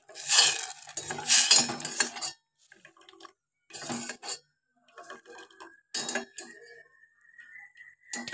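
Momo chutney being mixed in a bowl, with bursts of clinking and scraping from a utensil against the dish, separated by short pauses and softer taps.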